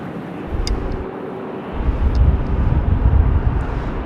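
An airliner takes off from runway 25 at Sydney Airport on a windy day, a distant low engine rumble swelling from about halfway through, mixed with steady wind buffeting.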